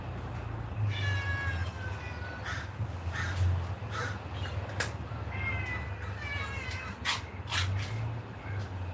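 A small cat meows repeatedly in short, rising cries spaced over several seconds, faint to moderate against a steady low background hum, with other calls mixed in and no clear talking.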